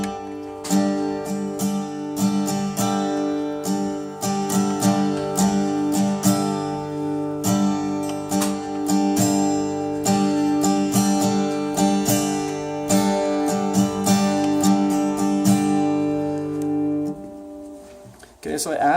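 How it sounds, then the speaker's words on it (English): An acoustic guitar strums a chord pattern with extra emphasis strums added between the basic strokes, giving a busier, dynamic rhythm that runs steadily and close, ending with the chords ringing out. "I added some extra strums in there besides the basic pattern, to add emphasis, to change the dynamics of the song"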